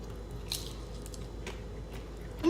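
Crunchy veggie bacon is bitten and chewed close up, giving a few sharp crunches spaced about a second apart over quiet background hum.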